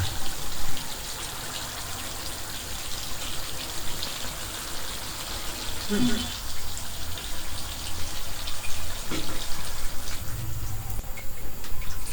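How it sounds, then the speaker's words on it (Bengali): Water pours steadily into a simmering pot of chicken and potato curry, a continuous splashing hiss with a few brief clinks, no talking. "এখন আমি ঝোলের পানিগুলো দিয়ে দিব।"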